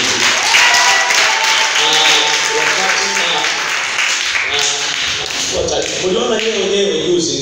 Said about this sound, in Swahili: Bwana Yesu tumpigie Yesu makofi mengi.